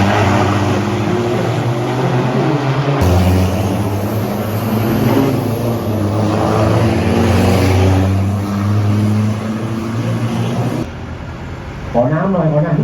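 Race cars at a motor racing event in Bangsaen roar past loudly for most of the span, engine tones rising and shifting, then drop away before a final rev near the end.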